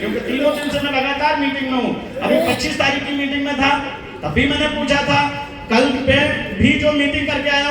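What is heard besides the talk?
No everyday noise stands out behind the speech.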